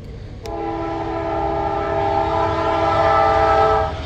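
After a sharp click, a loud, sustained train horn in a strategy video game blares for several seconds over a low rumbling background.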